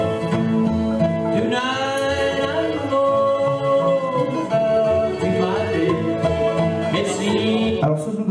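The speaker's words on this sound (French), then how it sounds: "Donc ce que vous entendez là, c'est la mandoline." Bluegrass band playing, with a mandolin's bright picked melody over guitar and bass, steady and loud throughout with no talking.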